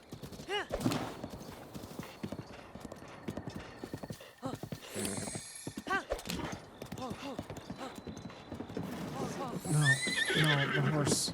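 A horse in the video game Breath of the Wild on Master Mode whinnies repeatedly over steady clip-clopping hooves, while a player talks throughout.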